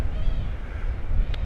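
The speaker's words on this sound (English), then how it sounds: "I'm currently filming a cat" A cat meows on the Paphos seafront, a short cry heard amid outdoor background noise, with a faint high tone near the end.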